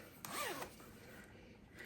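A single short, soft zip of a fabric pencil or makeup pouch zipper being pulled, close and quiet, followed by faint room hiss.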